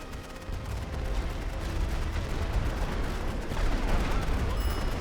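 Continuous artillery barrage in a World War I game set at the Second Battle of Champagne on the Western Front: dense overlapping booms and gunfire rumble steadily, growing slightly heavier toward the end, with no speech.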